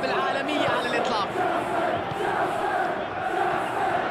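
Simulated stadium crowd noise from a football video game match between Chelsea and Manchester City, a continuous loud roar of chanting and cheering, with a commentator's voice partly audible over it.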